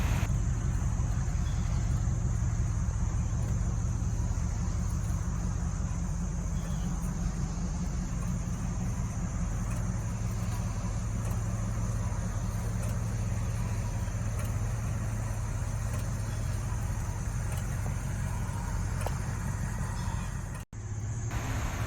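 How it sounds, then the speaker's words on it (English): A 1965 Ford Falcon Futura convertible with its original factory 289 Challenger V8 idles steadily for a long stretch, a low continuous rumble heard up close with no talk. "This Falcon has the original factory 289 Challenger V8 engine"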